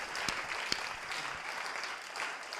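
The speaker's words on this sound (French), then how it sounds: "Clap for your God." A church congregation applauding during worship, giving a dense, fairly faint patter of many hands clapping steadily throughout with a few louder individual claps.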